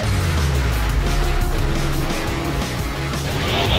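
Transformers robots racing in vehicle mode in the video game Transformers: Galactic Trials, with engines droning steadily and loudly alongside tire noise and layered game music throughout.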